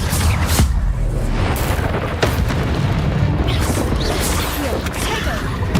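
Incendio spell blasts in the video game Hogwarts Legacy, a loud, continuous run of fiery booms and crashing bursts that fills the whole stretch.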